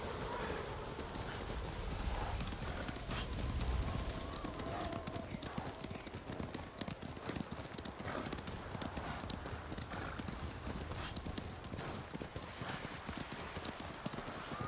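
Horse hooves clip-clopping at a steady trotting rhythm in the samurai game Ghost of Tsushima, continuous and close, with occasional whinnies and talk over the hoofbeats.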